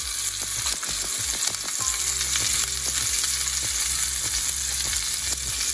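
A medium rare steak sears steadily in a hot pan, a loud continuous sizzle broken by regular rhythmic knocks or stirring clatter, close up with no voices.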